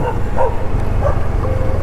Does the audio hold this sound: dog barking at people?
yes